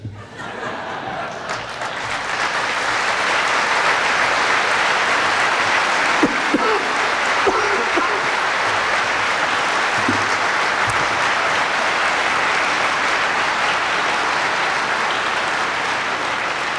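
Applause from a lecture audience swells from a quiet start into a sustained, dense roar of clapping that holds steady for many seconds, with faint chuckles mixed in.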